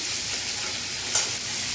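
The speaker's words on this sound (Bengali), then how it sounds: "পেঁয়াজ ভেজে পেঁয়াজটাকে ভাজছি" Onions frying in oil, heard as a steady, loud, close-up sizzling hiss with a single faint clink partway through.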